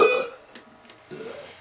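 A short, loud burp at the start, followed by quieter breathy sounds and a faint voice.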